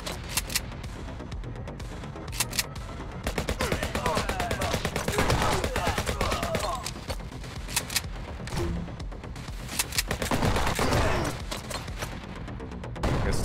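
Rapid machine gun fire from a boss in the video game HyperParasite rattles almost continuously in loud, dense bursts, mixed with other game gunshots and effects.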